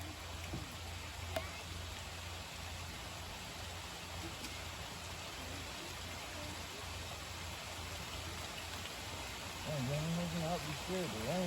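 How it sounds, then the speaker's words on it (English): Heavy rain falls steadily around a Toyota Tundra being cleaned outdoors, a constant dense hiss throughout, with a voice briefly heard near the end. "A little bit more heavier with the rain."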